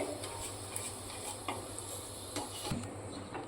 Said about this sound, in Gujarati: આપણે હવે આ રીતે આપણે હલાવ્યા જ કરવાનું છે